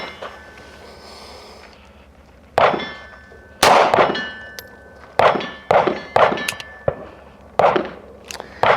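Sharp gunshots from a Smith & Wesson Bodyguard 2.0 Carry Comp pistol at a range, about seven separate reports in an uneven string, loud and close, with a quiet pause before the first shot.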